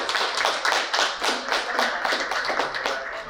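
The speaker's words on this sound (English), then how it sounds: "Let's give Beto a clap of applause" A small audience claps at the close of a business talk, the individual hand claps distinct and close in a quick, even rhythm throughout the short burst.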